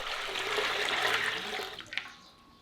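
Water is drawn up from an old family well in a village in Pocheon, Gyeonggi-do, a close rushing gush that pours steadily, then thins to splashes and trickles as it dies away.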